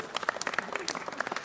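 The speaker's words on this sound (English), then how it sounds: "give Nick a round of applause" A city council meeting audience gives a brief burst of applause, with many hands clapping quickly and densely, close and fairly loud.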